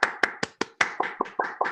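Sparse hand clapping after a symposium talk, about nine distinct claps in a steady rhythm, close and fairly quiet, with no voices over it.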